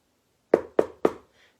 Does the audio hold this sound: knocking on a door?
yes